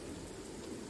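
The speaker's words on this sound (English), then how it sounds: "it's like a blanket of rain" Heavy rain lashing a plane as it enters a hurricane's eye wall, a dense, steady roar of downpour filling the whole moment with no pauses.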